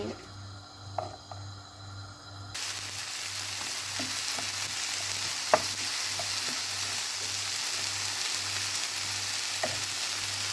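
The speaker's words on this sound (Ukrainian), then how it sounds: "після м'яса залишився смачний сік з олією і сюди викладаю цибульку. Смажити буду на середньому вогні" Onions sizzle and crackle over medium heat in meat juices and oil, a steady frying hiss with occasional pops and a faint low hum underneath.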